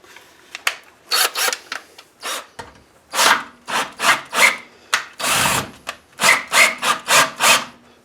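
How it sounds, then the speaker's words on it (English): A drill bit enlarging a hole in a part of a Predator 6.5 HP 212cc OHV horizontal-shaft gas engine, heard as a close, loud run of rhythmic rasping, scraping strokes with short pauses between them. "So what I'm doing is drilling this out a little bit bigger"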